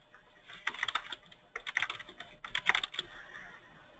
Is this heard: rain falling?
no